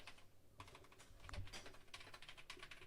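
Fingers tap out a quick, uneven run of clicks on a computer keyboard, close and fairly quiet, with short pauses between bursts of keystrokes.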